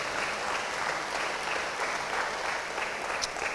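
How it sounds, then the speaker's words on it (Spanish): A church congregation claps at a Sunday service, a dense, even wash of applause filling the room at steady volume throughout. "¿Por qué no le das otro fuerte aplauso al Señor?"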